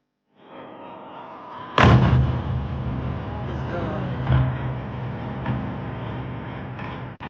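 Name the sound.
drone explosion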